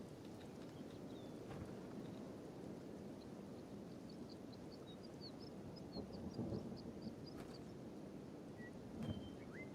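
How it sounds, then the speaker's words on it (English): Steady rain falling across an outdoor landscape in the video game Kenshi, a dense continuous wash with a low rumbling undertone, faint high chirps scattered through and a slight swell toward the end, with no voices. "Hey, rain, I bet that's gonna be good for the crops."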